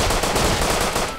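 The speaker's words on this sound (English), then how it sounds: "just cause I took some pot shots at you" Rapid gunshots ring out in the survival video game Rust, a loud continuous stream of closely spaced cracks over the full short stretch, with no one talking.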